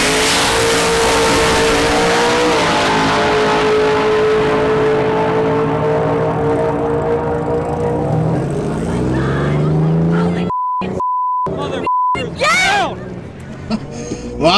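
Drag racing cars, a Corvette and a Nissan GTR, roar down the strip at full throttle, a loud sustained engine blare that fades as announcers talk over it, followed by scattered crowd and radio noise.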